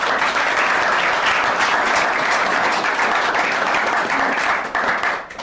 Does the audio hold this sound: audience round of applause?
yes